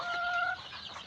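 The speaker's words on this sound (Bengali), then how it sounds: "এই যে কাদাকনাথ মুরগিগুলো আছে" Kadaknath hens clucking close by on a farm, a short steady burst of fowl calls with a brief higher tonal note at the start, no talk.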